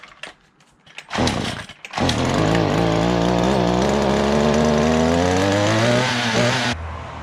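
Small gas engine on a Troy-Bilt machine sputters through a couple of short pulls, then catches and runs loud and close with a steady buzzing drone, pitch shifting slightly before easing down near the end.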